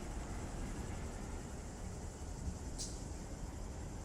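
BNSF freight train in the Run 8 Train Simulator game, a steady low rumble of rolling railcars and engine droning continuously with a faint brief squeal near the end.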